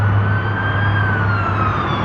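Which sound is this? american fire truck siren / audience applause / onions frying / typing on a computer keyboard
american fire truck siren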